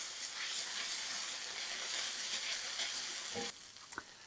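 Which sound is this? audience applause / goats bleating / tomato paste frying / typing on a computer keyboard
tomato paste frying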